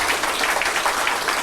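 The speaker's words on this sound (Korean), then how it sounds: "선생님까지 박수 다시 한번" Audience applause at a thousand-person declaration ceremony, given to the declaration readers, children and teachers. A dense, steady clapping wash runs evenly through the whole moment with no voices over it.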